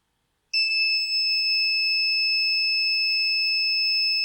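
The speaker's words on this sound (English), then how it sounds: "when I move my hand towards it, there will be a buzzer and there will be an alarm" An IoT smart home kit buzzer alarm, set off by a hand moving toward its sensor, gives a loud, steady, high-pitched electronic tone that starts abruptly and holds unbroken for several seconds.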